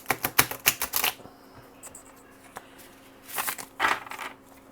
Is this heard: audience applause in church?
no